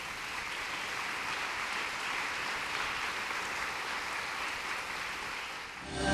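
A church congregation clapping as an offering to the Lord, a steady, even wash of many hands that is fairly faint and distant, lasting about six seconds with no talk.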